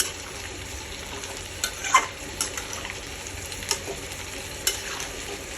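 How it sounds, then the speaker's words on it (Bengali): Lentil dumplings (bori) sautéing in a pan of shukto, a steady close sizzle and frying hiss with a spatula stirring and scraping, a few sharper clinks along the way. "বড়িগুলো দেওয়ার পরে এটাকে এইভাবে কষিয়ে নেবেন।"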